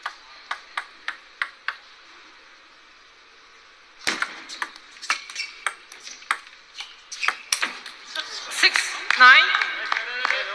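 A table tennis ball is struck back and forth at the World Table Tennis Championships team event in a Ma Long match, giving a crisp, evenly spaced ping rally. Crowd applause and cheering then rise under a commentator's voice.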